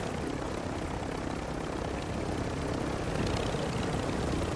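Helicopter rotor and engine roar from a video game, a steady dense broadband whir that holds at an even level throughout with no talk.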